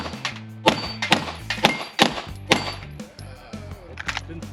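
Pistol shots ring out at an outdoor shooting range, about eight sharp, loud cracks in quick, slightly uneven succession with brief ringing between them.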